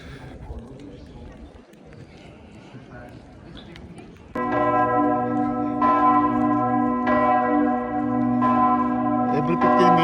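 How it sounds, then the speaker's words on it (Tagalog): A church bell peals loudly and repeatedly in a steady rhythm, its rich ringing tones layered and sustained, starting abruptly after outdoor crowd chatter and footsteps, with people talking throughout. "Every 15 minutes, nagri-ring yung bell."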